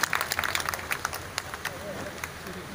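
Audience applause at a ceremony opening a passport service centre at the Jaisalmer head post office, a steady patter of clapping hands from a gathered crowd with scattered sharper claps and faint chatter beneath.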